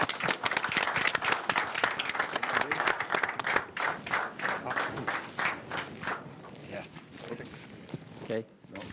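Applause at a press conference presenting a youth motorcycle racing series: a burst of clapping from a small gathering, sharp and close, tapering off after a few seconds while people talk.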